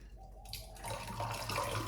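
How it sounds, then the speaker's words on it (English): Water is poured out of a container after cleaning a string of vintage crystals, a steady splashing rush that starts after a short pause and continues close and fairly loud. "Now let's dump the water."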